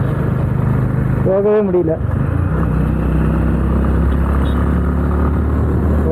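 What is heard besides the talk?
Honda Highness CB350 motorcycle being ridden in city traffic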